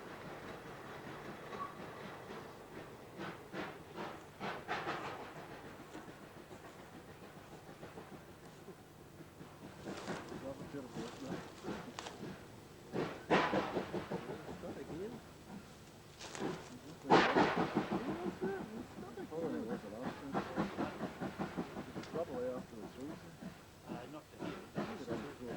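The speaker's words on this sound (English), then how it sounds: "The train was too heavy for the locomotive to push back up the incline." Train hauled by a locomotive on a steep mountain incline, heard from outside: a low rumble with rhythmic clatter and bursts of heavy chuffing and exhaust blasts that swell and fade over about half a minute, with faint voices nearby.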